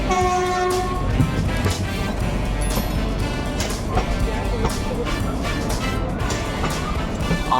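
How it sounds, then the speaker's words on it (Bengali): The Kalka Shimla toy train pulls into Shimla with a steady rumbling rattle of wheels and carriages, a drawn-out horn near the start, and people talking beneath the loud, close clatter. "আমাদের ট্রেন সিমলা ঢুকছে"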